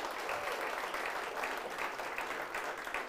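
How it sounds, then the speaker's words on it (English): Audience applause at the 2024 New Zealand Hi-Tech Awards finalists event in Auckland, a steady, dense wash of clapping from a large crowd, sustained evenly throughout. "Give them all a round of applause too."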